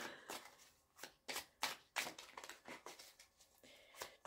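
Oracle cards are shuffled for a reading in a quiet room: a soft run of quick riffling flicks, close and faint, coming in an uneven rhythm with no talk.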